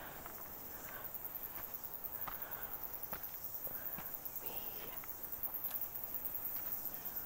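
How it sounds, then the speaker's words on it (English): A continuous high, shrill cicada drone fills the air throughout, with soft scattered footsteps on a bush path in Karangahake Gorge, New Zealand, beneath it. "You can hear all the cicadas."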